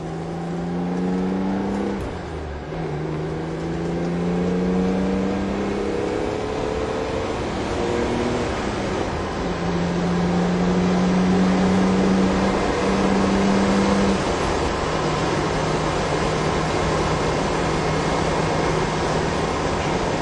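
A BMW 633 CSI's naturally aspirated engine hums under steady acceleration, its tone rising through long drawn-out sweeps with a gear change early on, heard from inside the car over constant road and wind noise.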